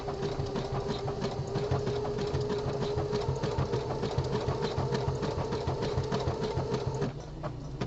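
A home sewing machine stitches the body panel of a pair of boxer briefs, running at a steady rapid rhythm with a continuous mechanical whir and dense ticking throughout, close and clear, then easing off near the very end.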